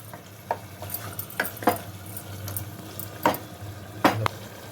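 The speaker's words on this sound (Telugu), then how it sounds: "క్లీన్ చేసుకుని మటన్ వేస్తున్నాను మసాలాలు ఆయిల్లోనూ ఒక ఐదు నిమిషాలు బాగా వేయించుకోవాలి" Mutton frying in oil with masala spices, a steady low sizzle under scattered clinks and scraping stirs of a utensil against the pan, with no talk.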